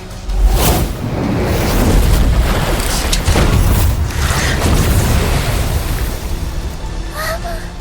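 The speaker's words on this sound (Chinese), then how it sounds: "柳如烟，给我轰碎他的旗舰！" Loud, heavy booms and deep rumbling blasts roll on without pause, with sharp bursts and a brief whoosh near the end.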